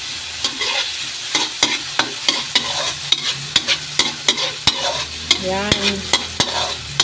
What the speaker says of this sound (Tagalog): Luto po mabuti yung kamatis para lumasa.